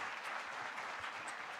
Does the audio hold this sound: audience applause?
yes